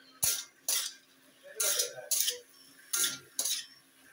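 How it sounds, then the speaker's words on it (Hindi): Potatoes being stirred into spice masala in a pan, heard as six distinct scraping, clinking strokes of a utensil against the pan in an uneven rhythm, close and fairly loud with no talking. "मसाले में आलू ऐड कर दी हूँ अभी इसको चलाऊंगी"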